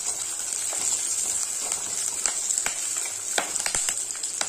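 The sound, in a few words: garlic and curry leaves sautéing in pan for okra kuzhambu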